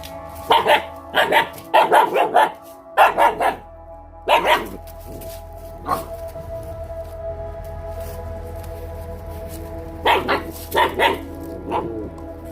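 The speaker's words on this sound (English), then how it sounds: "It's all canine communication." Puppies bark and yip at each other in quick bursts of sharp barks, with pauses and a softer yip or growl between them, close and loud over a low steady background hum.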